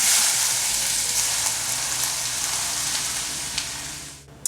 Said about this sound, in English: And you're ready for the sizzle sound?